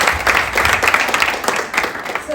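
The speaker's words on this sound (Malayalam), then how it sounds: "അപ്പൊ just give A good round of applause" Audience applause at a transgender beauty pageant grooming session, a steady dense wash of clapping held for the whole stretch at a fairly loud level.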